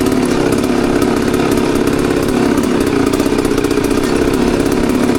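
A hard enduro motorcycle engine runs steadily and loudly up close on a marked rocky mountain trail on Mount Hymettus, its buzzing drone holding at low, even revs with no voices.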